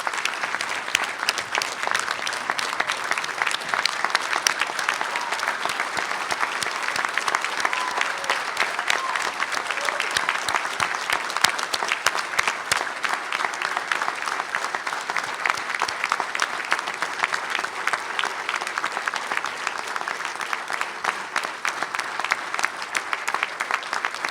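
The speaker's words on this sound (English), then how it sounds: "Please join me in giving them a round of applause" Sustained audience applause at an awards banquet honoring academic team students, dense steady clapping from a large crowd lasting throughout without pause.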